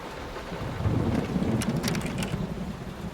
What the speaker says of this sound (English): Will this storm ever run out of rain?